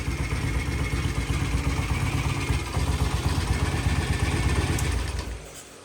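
A vintage British motorcycle engine, freshly repaired, idles at a steady, even patter nearby for several seconds before the sound drops away at the end.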